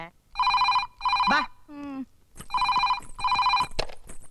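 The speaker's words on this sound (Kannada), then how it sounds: "ಏ ಫೋನು" An old landline telephone rings in a house, two double bursts of bright electronic ringing separated by a pause, close and clear, with a voice calling out between the rings.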